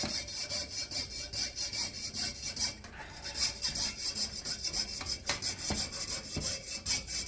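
A coping saw pierces shapes out of a large 6-inch copper disc, giving steady close rasping strokes in a continuous back-and-forth rhythm, with no voices.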